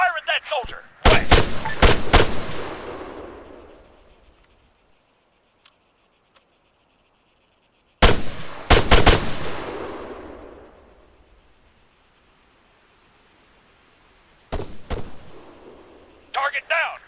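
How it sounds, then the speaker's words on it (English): Machine gun and rifle fire in the ARMA military video game, a forest battle between soldiers, with loud rapid bursts in three separate volleys divided by long quiet stretches of faint ambience. "Terry, engage that machine gunner."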